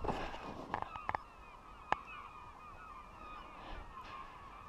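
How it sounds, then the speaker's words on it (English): Flying birds honk overhead, faint and distant, with a cluster of sharp calls early on, one clear honk near the middle, then softer scattered cries trailing off. "I don't know if you can hear these birds"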